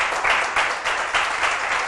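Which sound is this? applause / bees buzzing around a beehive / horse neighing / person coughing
applause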